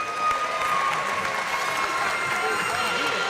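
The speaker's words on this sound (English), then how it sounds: "let's have a big round of applause," A boxing crowd applauds both fighters in the ring, a loud, dense and steady wash of clapping that fills the whole stretch, with a voice speaking over it.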